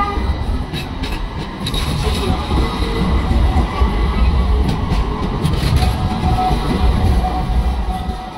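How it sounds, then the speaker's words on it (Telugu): Trams running on tracks laid directly in a city street in Istanbul, a steady loud rumble of wheels on rail with traffic noise throughout, no talk. "చూడండి రోడ్డు మీద ఎట్లాగా ట్రైన్స్ వెళ్తున్నాయో."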